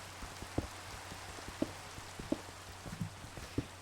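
Rain falls in Minecraft as a soft, continuous hiss with faint scattered droplet taps, steady and quiet throughout with no talking.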